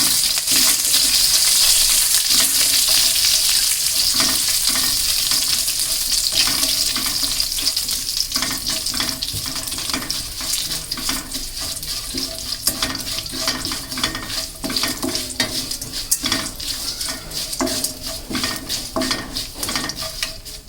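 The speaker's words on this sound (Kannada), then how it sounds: "ಈಗ ಕರಿಬೇವು ಹಾಕ್ತಾಯಿದ್ದೀನಿ" Curry leaves crackle and fry in hot oil while being stirred for a drumstick-leaf palya, with a loud sputtering sizzle at first that settles into a busier, uneven crackle with frequent stirring scrapes.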